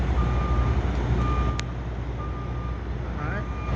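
A truck backs up at a California truck stop with mountain views, its backup alarm repeating steady beeps over a constant low rumble of engines and traffic.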